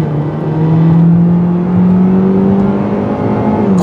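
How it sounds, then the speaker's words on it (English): A 2018 Hyundai Elantra GT with a 160-horsepower engine, weighing about 2,900 pounds, accelerates at full throttle: a loud, close engine drone rising steadily in pitch as it pulls, smooth and continuous throughout. "let's punch the throttle."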